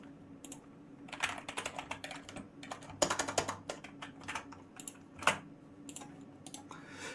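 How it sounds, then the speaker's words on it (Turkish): Close, quiet typing on a computer keyboard as a website name is entered, with irregular bursts of rapid key clicks and short pauses and no talking. "Web sitenin ismini yazıyorum."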